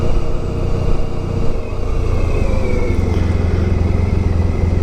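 Continuous road traffic rumbles nearby, engines droning and vehicles passing steadily without pause, with no voices.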